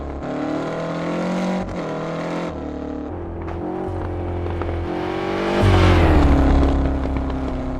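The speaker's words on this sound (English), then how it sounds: "Here comes that world famous Lancia Delta Integrale. Can we have a little listen?" Lancia Delta Integrale rally car in a WRC video game, engine droning steadily with shifting pitch as it revs and changes gears, swelling louder toward the end, heard alone.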